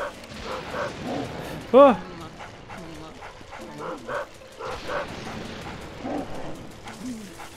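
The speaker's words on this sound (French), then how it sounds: "faites taire ce chien!" A dog in the video game Luigi's Mansion gives a couple of yipping, whimpering barks, including one sharp bark, amid game music and someone talking.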